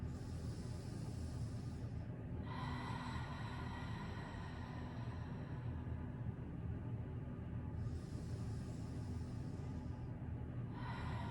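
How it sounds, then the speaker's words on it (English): Ujjayi ocean-sounding breath during a gentle yoga session for the low back: a steady, close, breathy rushing that swells and eases in long waves, with short dips between breaths and no talking. "So in English, this is called the ocean sounding breath."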